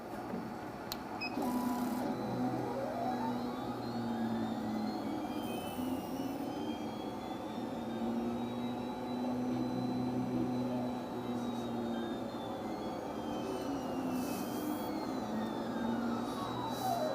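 SN1812+ laser engraver tracing a circle on slate, a faint, continuous whirring motor drone with slowly rising and falling tones as the head sweeps around, plus a few soft clicks in a quiet room.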